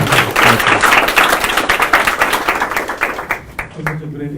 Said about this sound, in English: Let's give her an applause one more time.